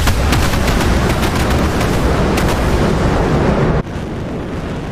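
Bombs dropped by a squadron of B-1B Lancer bombers explode in a war video game, a dense, continuous rumble of overlapping blasts and crackling bursts that cuts off sharply near the end, leaving a quieter roar.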